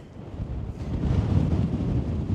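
Wind gusting across a Lake District fell path on a hike, a steady broad low rumble of buffeting against the microphone that swells slightly after the first second and carries on unbroken, with no voices.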